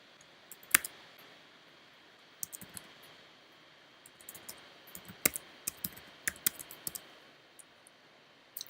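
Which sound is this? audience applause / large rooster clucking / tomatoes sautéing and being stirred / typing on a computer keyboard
typing on a computer keyboard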